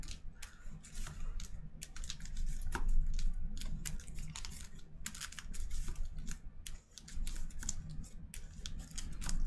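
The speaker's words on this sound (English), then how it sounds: "Shuffle, shuffle, shuffle." Marvel Champions playing cards being shuffled at a table, a soft, steady run of riffling and rapid flicking clicks, close and fairly quiet with no talking.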